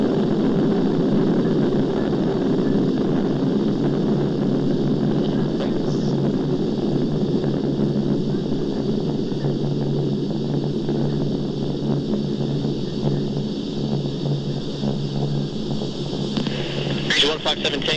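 Propeller aircraft engines run steadily during a props check at an airport, a loud continuous droning hum that holds throughout with faint radio chatter underneath.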